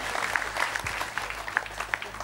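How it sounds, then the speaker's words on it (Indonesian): Audience applause rises for the regent at a Cak Nun and KiaiKanjeng gathering in Indonesia: a steady, dense clatter of many hands clapping together, fairly even in loudness across the whole stretch. "Sekarang kita berikan tepuk tangan cinta dan kepercayaan setinggi-tingginya kepada Bapak Bupati."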